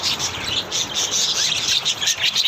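Birds chirp continuously on a cool, windy morning in Los Angeles, a dense busy chorus of high tweets filling the whole stretch at steady loudness with a faint low rumble underneath.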